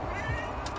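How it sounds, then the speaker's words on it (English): A cat meows amid background noise during a zombies session of Call of Duty, a short close cry rising over a steady game and room hum. "Oh, the cat, man."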